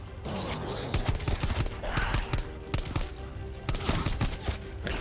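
Rapid gunfire from a zombies video game crackles in dense, overlapping bursts over busy game noise, with a player talking quietly in between.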